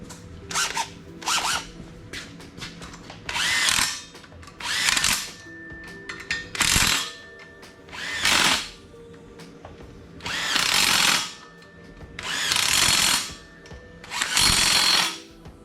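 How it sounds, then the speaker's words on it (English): A small DeWalt cordless impact driver runs in repeated bursts of roughly a second each, about nine in all, with short pauses between them. It sounds close and loud while working on a 1968 Camaro getting an LS engine swap. "I think I'll grab the little DeWalt"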